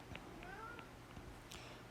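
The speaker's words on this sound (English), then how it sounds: "Pardon the meowing cat in the background." A house cat meows faintly in the background of a quiet room, a few short, thin cries spread across two seconds.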